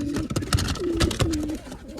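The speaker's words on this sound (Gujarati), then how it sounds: "આમાં પણ કબૂતર અત્યારે બેસી ગયા છે" Pigeons coo in low, throaty phrases, a few rolling calls close by, with light rustling in the background.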